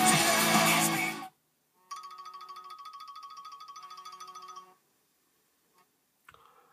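An iPhone's incoming call rings through a car radio: a short loud burst of sound, then a steady repeating electronic ringtone pattern for about three seconds, followed by near silence and a brief faint chime.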